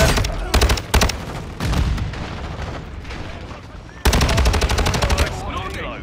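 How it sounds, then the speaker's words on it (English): Gunfire in Call of Duty Modern Warfare 2 on PS5, loud rapid automatic bursts in several close volleys with a sustained rattling barrage near the end, over ongoing game ambience. "Yeah, shoot guns."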